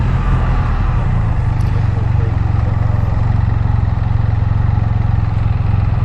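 A Can-Am Spyder F3 engine runs with a steady, loud, close rumble while riding, the low pulse holding even through a first gear downshift with wind noise over it.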